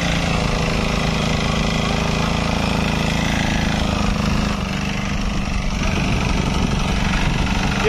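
A power weeder engine chugs steadily in first gear at low speed, a loud, continuous close-up drone that holds its pitch throughout without talking over it.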